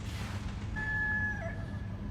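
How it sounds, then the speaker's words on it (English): A rooster-like fowl call rings out briefly and faintly over a low background rumble in an anime scene with loose chickens at a school. "We got chickens loose too."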